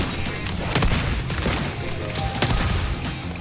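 Rapid bursts of enemy gunfire rattle through a shootout in the game Wuthering Waves, sharp repeated cracks over a constant backdrop of combat noise, loud and close.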